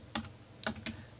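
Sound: typing text on a computer keyboard

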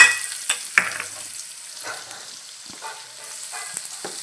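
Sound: chopped onion frying in oil with mustard seeds, cumin, curry leaves

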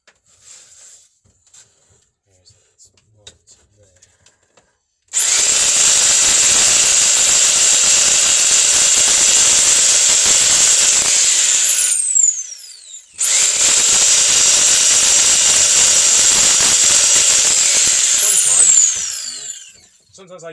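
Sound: trimming second-hand wood for a model railway baseboard

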